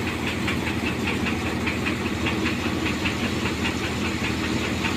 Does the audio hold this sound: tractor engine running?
yes